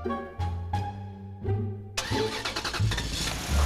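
A car engine cranks in several short starter bursts, then catches and settles into a steady, loud idle as it warms up, close by with no talking.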